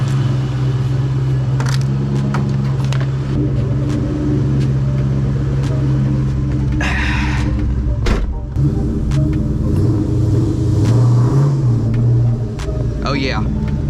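A Cobra car with about 40,700 miles and a hot clutch rumbles steadily at close range, its low engine drone swelling in a few revs, while someone talks over it.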